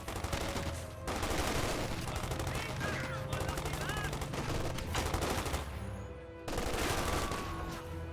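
Dense gunfire crackles in a Company of Heroes 2 battle, with steady rifle and machine-gun rattles close and continuous and a brief lull before another burst, while a voice talks underneath.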